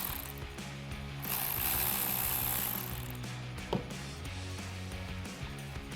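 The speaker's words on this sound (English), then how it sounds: "Now we'll disconnect the other bolt on the terminal here with our 13mm socket." A ratchet and 13mm socket loosen a battery terminal bolt on a 2013-2018 RAM 1500 truck, producing close, continuous fine clicking through several strokes with one sharper metallic tap partway through.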